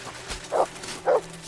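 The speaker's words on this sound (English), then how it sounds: "Watch out! He's got a dog!" A dog in the video game Kingdom Come Deliverance II barks twice, short and close, about half a second apart, over a quiet low background.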